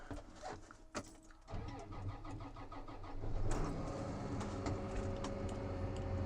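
A Case IH Magnum tractor engine starts: a few clicks and a cranking catch, then the diesel fires and settles into a steady, rumbling idle that builds slightly louder, no voices.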